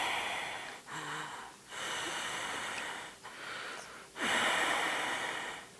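A voice imitates someone breathing hard, like a masked horror-movie killer, with four long, harsh, snorting breaths in a row, close and fairly loud.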